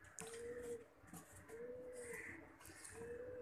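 Pigeon cooing, from the fancy Lahori breed of pigeons, repeats in three drawn-out, soft coos set against a faint background murmur with no talking.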